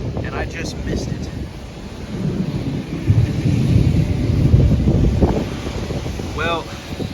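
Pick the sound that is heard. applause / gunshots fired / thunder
thunder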